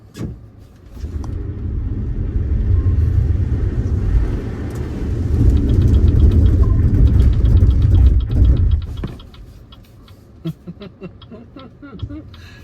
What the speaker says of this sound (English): let the car accelerate